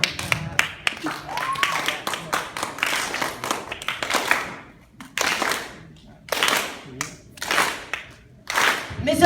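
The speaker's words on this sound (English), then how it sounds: "Let's clap our hands together." An audience claps hands together in uneven, bursting rhythmic patterns to set a beat for a rap performance, with voices talking and calling out among the claps.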